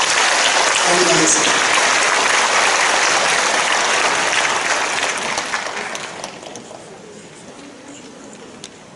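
Church congregation at a prayer meeting applauds loudly with dense, close clapping that tapers off over the last few seconds, with someone speaking over the start.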